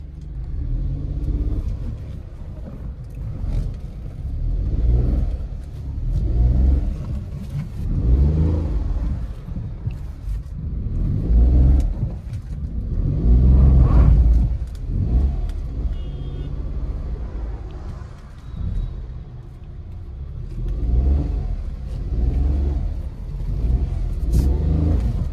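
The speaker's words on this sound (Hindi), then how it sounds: "गाड़ी का स्टार्टिंग साउंड और बाकी सब कुछ ओके है।" Hyundai Eon 1.0 with an 800 cc engine running for sale at a car market, a steady low rumbling idle with repeated swells of revving throughout, close and fairly loud, no talking.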